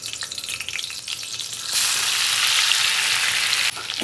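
Plenty of mixed vegetables go into about three spoonfuls of hot oil for a Bhogi-festival khengat bhaji, and the close sizzle suddenly surges into a loud, dense hiss that holds steady before easing slightly.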